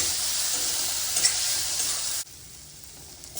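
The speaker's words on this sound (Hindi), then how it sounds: "और मसाला डालकर इसे 2 मिनट तक पकाएंगे।" Masala frying in a pan for paneer masala, a steady loud sizzle with stirring scrapes that drops abruptly to a quieter hiss partway through.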